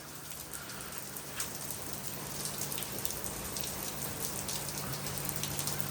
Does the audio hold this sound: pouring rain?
yes